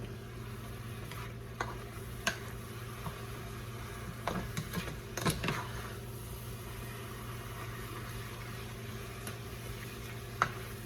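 Ground beef taco filling being stirred in a pan, with a steady low sizzle and scattered scraping clicks of the utensil against the pan, a few sharper knocks standing out, no talking.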